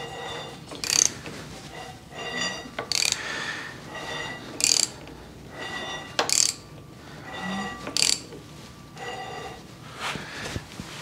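A 1953 GMC engine turned over by hand through one full revolution, giving repeated ratchet-like clicks and mechanical clunks in bursts about every second or so against a quiet room.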